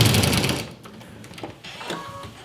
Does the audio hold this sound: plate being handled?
no